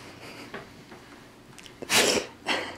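A Great Pyrenees puppy sneezes twice in quick succession, sharp and close, after a few faint snuffles in a quiet room.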